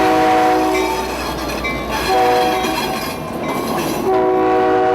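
A CSX freight local led by a rare Jeep 60 locomotive rolls past at Plant City, Florida, its loud horn sounding in repeated blasts over the heavy rumble and rattle of the train.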